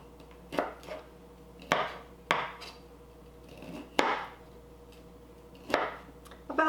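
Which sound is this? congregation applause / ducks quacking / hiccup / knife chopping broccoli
knife chopping broccoli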